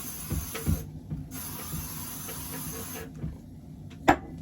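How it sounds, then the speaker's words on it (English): Two short bursts of anti-frizz hair spray hiss close by, separated by a pause, with faint handling clicks and rustles around them. "Frizz spray."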